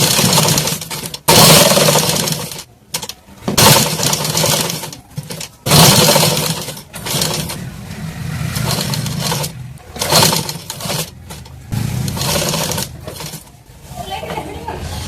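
A sewing machine stitching blouse sleeves for a katori blouse runs in several bursts of motor whirring and rapid needle clatter, alternating with pauses where someone talks close by.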